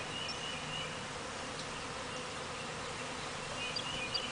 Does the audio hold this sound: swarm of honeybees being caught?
yes